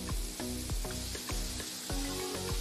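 Steady sizzling fills the scene as coconut cream fries in a hot pan, with faint periodic ticking running underneath.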